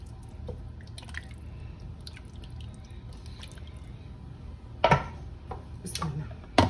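Rice is washed in a pot, with faint water drips and trickles over a low background hum, then a few sharper splashes and clinks of grains and water near the end.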